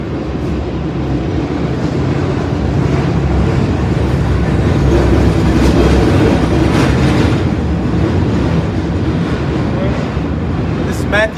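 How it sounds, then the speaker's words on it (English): A train rumbles past close by, a loud continuous roar with rhythmic clickety-clack of wheels on rails, steady for the whole stretch and ending with a brief high squeal. "You want to wait for the train to pass?"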